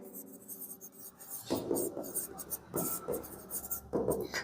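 Chalk or marker scratches across a board during a physics lesson on electrostatics, coming in short, quiet bursts of scraping strokes while a teacher talks.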